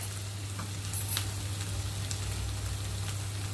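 Tomato sauce sautéing in a hot pan, a steady close frying sizzle with soft crackles running evenly throughout, along with a low constant hum from the stove or kitchen.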